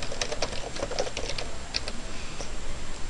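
Rapid keystrokes on a computer keyboard while entering an Office Max order for correction tape, an irregular run of light clicks close by, with steady low background hiss and no talking.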